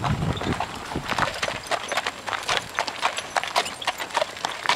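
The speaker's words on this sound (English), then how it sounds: "Salam Sipes is driving a buggy, thanks to his wife. Got the reins in the hands" Horse hooves clip-clop in a steady, moderately close rhythm as the animal pulls a buggy, with faint voices in the background.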